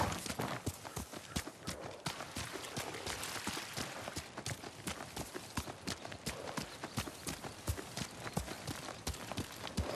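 Horses clip-clop at a steady, brisk pace in the video game Ghost of Tsushima, with crisp, evenly spaced hoof strikes running continuously from start to finish at moderate volume.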